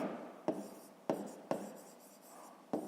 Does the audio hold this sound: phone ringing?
no